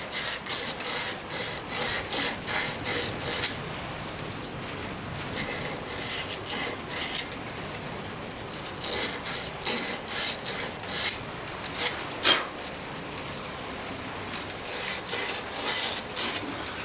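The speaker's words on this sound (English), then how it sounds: "I'm just going to run a round file over it." A round file rasps over a burr on a tractor PTO part in quick, rhythmic strokes, close and fairly loud, pausing briefly between bursts of filing.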